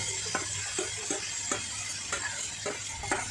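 Grated coconut with sugar frying in ghee with bay leaf and cardamom for narkel naru, a soft steady sizzle with regular scraping stirs about every half second, no talking.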